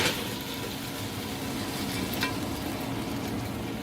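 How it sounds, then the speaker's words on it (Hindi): Chicken sizzling and frying in oil in a pan for korma, a steady dense crackle with a brief stir partway through, close and alone with no talk. "हमारा चिकन देखिए फ्राई हो गया है, मैंने इसको निकालना शुरू कर दिया है।"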